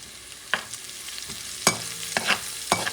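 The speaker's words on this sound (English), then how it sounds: "You don't want the garlic to burn, so you're going to move this for a few seconds." Garlic fries in a pan under a soft, steady sizzle while a utensil stirs it, scraping and knocking against the pan in several distinct strokes.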